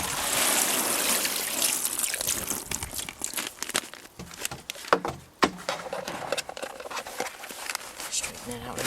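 Water poured onto garden soil and compost around a strawberry plant, a steady trickling and pattering with crinkling handling noises, fairly close and moderate in level, with a person speaking over it now and then.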